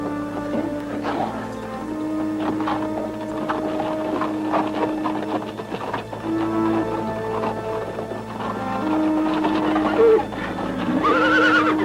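Horses whinny with several drawn-out neighs, the loudest near the end, over a steady clatter of clip-clopping hooves and background noise.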